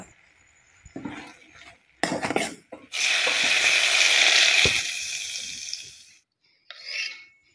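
Tempering sizzles in a pan for a thin bolu saaru: a few clinks and scrapes of metal, then a loud hissing burst that holds for several seconds and fades, followed by a short scrape near the end.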